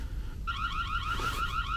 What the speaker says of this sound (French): Ça a fait sonner la caméra, une petite alarme.